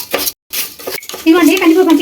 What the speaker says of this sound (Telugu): ఇలా నూనెలో కందిపప్పు వేపితే టేస్ట్ వస్తుందండి